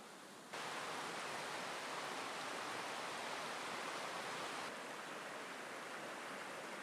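A forest stream flows below a narrow ledge, giving a constant, even hiss of running water that stays unbroken throughout at a moderate, slightly distant level.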